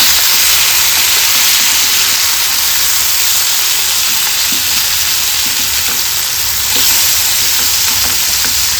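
Fish fries in a pan over a low flame, giving off a steady, loud, close hiss and sizzle of oil that runs unbroken throughout, with faint crackles and pops scattered across it.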